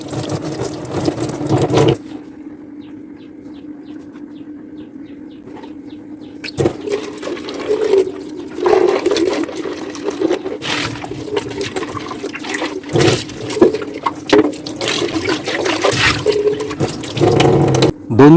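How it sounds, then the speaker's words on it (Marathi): An air fryer tray is rinsed under a weak-flowing kitchen tap, with a steady close trickle of running water that stops partway through and then resumes with clattering and splashing. "नंतर नळाखाली व्यवस्थित विसळून घ्या।"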